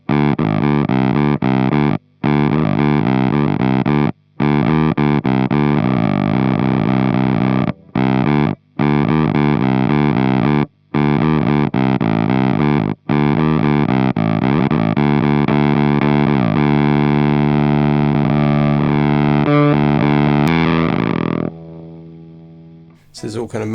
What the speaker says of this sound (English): so you can get this sort of ridiculous sub-synth kind of thing happening